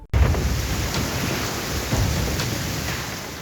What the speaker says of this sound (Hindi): राजस्थान के कई जिलों में कल तेज हवा के साथ जोरदार बारिश ने लोगों की मुसीबत बढ़ा दी